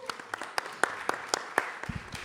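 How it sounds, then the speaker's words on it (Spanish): A few people clap in a sparse, uneven patter of separate handclaps, quiet and somewhat distant, in a gathering celebrating Colombian cultural heritage and music. "un gran aplauso para Diana"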